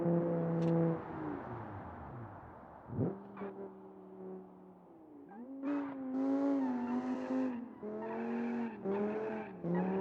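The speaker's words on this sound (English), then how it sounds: "sounds like he got some strange gear ratios in that box." A rally race car in a driving game revs and shifts through oddly spaced gears, engine tones climbing and dropping repeatedly with tire skids, loud and continuous without any talk.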